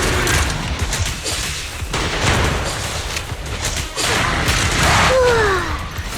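Rifle gunfire in the video game Zenless Zone Zero, dense rapid shots and booms layered with combat effects and a brief whistling tone, loud and continuous.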